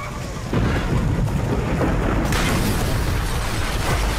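Explosion set off by a detonator in Call of Duty: Black Ops, a heavy booming blast that opens suddenly and rolls on as a sustained, loud rumble with a second surge of debris noise midway, no talking.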